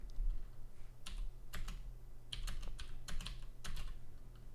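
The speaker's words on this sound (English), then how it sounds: "Now try typing in the following." Keystrokes on a computer keyboard typed while entering code into a Julia programming session, arriving as a few quick bursts of close, crisp clicks with short pauses between them, with no talking over them.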